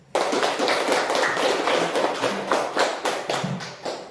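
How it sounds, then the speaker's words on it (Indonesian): A high school class applauds a group of presenters, a dense, continuous patter of many hands clapping at close range for several seconds. "Beri tepuk tangan dulu untuk yang ambil dari."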